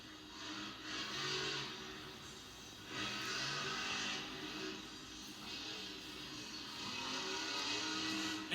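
Cole Menard's Black Pearl monster truck running a freestyle at a Monster Jam event in St. Louis, a distant, broad engine roar that swells and fades in surges over steady arena noise.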